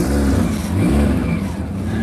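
A 2-litre car engine revs hard close by, a loud, rough, continuous roar that swells and eases slightly across two seconds.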